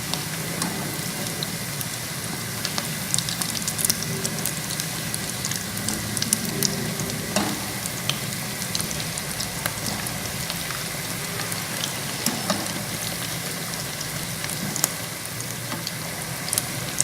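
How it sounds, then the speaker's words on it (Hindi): Mashed potato puffs fry in hot oil, a dense, steady crackling sizzle like light rain with scattered sharper pops, heard alone with no voices. "अब दूसरी साइड से भी तब तक फ्राई करें जब तक लाइट गोल्डन कलर ना आ जाए।"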